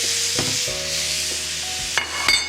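Beef sizzles steadily as it is stirred in a hot Delimano ceramic pan, with continuous frying hiss and a few scraping, clattering utensil knocks, and no voices.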